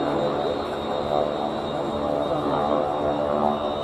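The 600 horsepower Pratt & Whitney Wasp radial engine of a North American Harvard in US Navy markings at an air day gives a steady, harsh rasping drone, continuous and fairly loud throughout.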